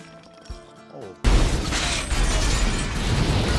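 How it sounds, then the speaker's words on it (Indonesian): Two grenades go off inside a building in a prison action film: quiet tones give way to a sudden loud blast and a sustained roaring, crackling rumble of debris, with no voices. "driver dengan santainya mengeluarkan dua granat dari sakunya"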